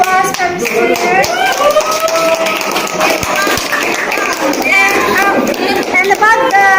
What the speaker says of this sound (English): Give applause for the students.